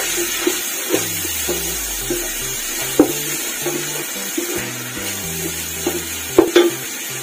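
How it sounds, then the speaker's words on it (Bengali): Ginger, garlic and onion being fried for chicken mandi, a continuous sizzle with intermittent clinks and scrapes of a utensil stirring in the pan, close up and without talk. "এরপর আমি আদা রসুন পেঁয়াজ দিয়ে দিব।"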